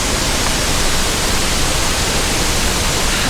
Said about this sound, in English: Hopefully you can hear me over the sound of the falls and the sounds of the rapids.